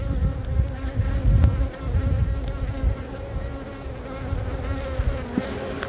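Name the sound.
honey bees buzzing around nuc hive during inspection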